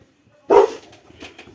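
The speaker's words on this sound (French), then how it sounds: "j'ai le chien du coup qui aboie, bien sûr" A dog indoors gives one sharp close bark followed by softer trailing yips in a quiet room.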